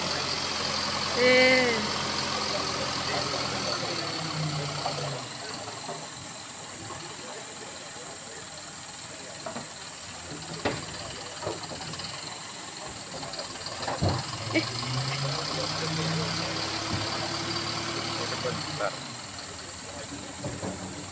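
A dump truck engine idles at a palm oil harvest with a steady low rumble and hiss, occasional clanks and a couple of brief tonal whines over it.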